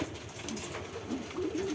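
Soft cooing of King pigeons, low and intermittent, with a few murmuring calls rising and falling against a faint background.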